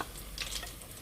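Battered zucchini flower frying in a pan of oil, a steady soft sizzle with faint crackles, alone and fairly quiet.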